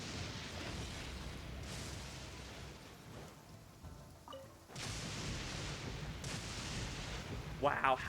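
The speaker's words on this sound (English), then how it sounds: "Wow, how did that lightning not hit me?" A lightning strike in the Genshin Impact video game crashes in as a loud, broad burst over steady rain-like noise, then rumbles on close and heavy, with a brief faint tonal chime near the end.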